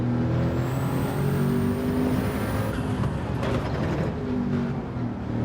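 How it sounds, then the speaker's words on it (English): A turbocharged car engine in a racing game runs with a steady mechanical whir and hum, holding a sustained drone with a slight shift in pitch midway, loud and close with no voices. "I reckon this is one of the best sounding engines. Even if it's turbocharged, it sounds fucking fantastic."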